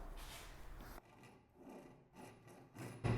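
Hand sawing with a Wolfcraft Ryoba Japanese pull saw, cutting a V-notch into hard iroko wood: close, rasping strokes, loudest in the first second, then quieter stop-start scraping and a sharper final burst.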